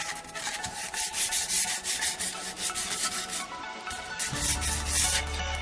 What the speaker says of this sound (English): you'll want to give them a good sand